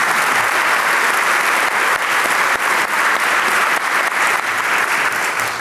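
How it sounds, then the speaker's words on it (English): Steady, dense applause from a convocation audience at an academic awards ceremony fills the hall, loud and sustained without a break. "Can we give him a round of applause?"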